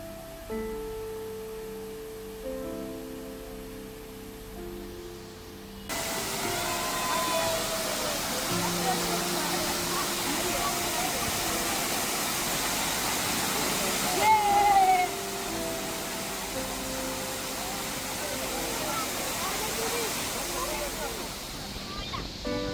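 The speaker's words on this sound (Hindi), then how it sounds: "ये वही वाटरफॉल है आगे जो हमने कल किंग जॉर्ज पॉइंट से देखा था" A monsoon waterfall at Matheran roars as a steady broadband rush that grows louder partway through, with wind buffeting the microphone and a voice speaking over the continuous water.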